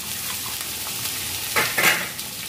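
Food stir-frying in a pan, a steady close sizzle with scraping strokes that swell louder toward the end as the food is moved around.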